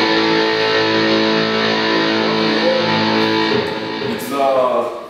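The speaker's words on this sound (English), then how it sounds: "This kind of distorted sound like this." Distorted electric guitar playing a sustained, buzzing chord that rings loud and steady, then shifts to a few thinner notes near the end.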